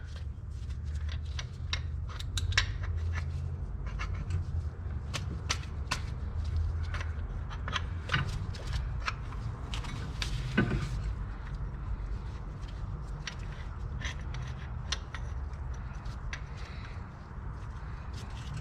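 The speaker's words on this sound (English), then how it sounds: "And then just spin it and it'll compress your piston." A C-clamp is spun by hand to press the piston back into a BMW brake caliper, giving quiet, irregular metallic ticks and clicks over a low steady background rumble throughout.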